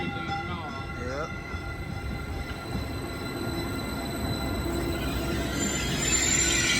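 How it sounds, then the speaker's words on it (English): Caltrain Stadler EMU electric local train at Menlo Park station, a steady rumble and rising rail noise building throughout, with brief high squeals early on and faint voices in the background. "It's a Stadler EMU. 639 to San Francisco, the local train."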